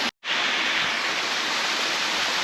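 A waterfall on a farm in Portugal, heard from its lower pool, sends up a steady, loud broadband rush that stops for a moment near the start and then runs on unbroken.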